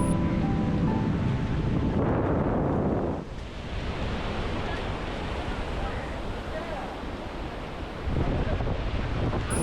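Sea waves wash against the shore at Chellanam on the Kochi coast while a strong coastal wind blows through coconut palms and buffets the microphone. The roar is steady and close, easing slightly in the middle before swelling again.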